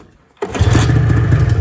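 A vintage barn-stored snowmobile with a Kohler engine cranks abruptly after near silence, a loud, close, rapid chugging rhythm that keeps going without settling into a clear run.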